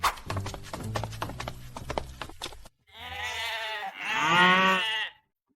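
Clattering and rustling on a farm give way to two drawn-out, wavering bleats from sheep, the second louder and longer, then silence.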